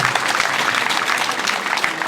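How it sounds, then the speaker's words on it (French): A crowd applauds strongly at a public event in the commune of Kouto, loud, close clapping with sharp individual slaps standing out in a continuous burst. "Monsieur Yeo Poroba, nous applaudissons encore très fort."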